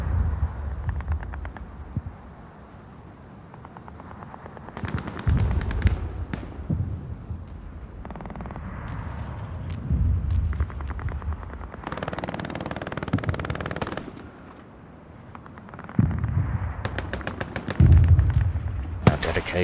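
Gunfire and rocket explosions in the video game Hell Let Loose, with rapid rattling bursts, booming low impacts and scattered single shots, mid-distance and continuous.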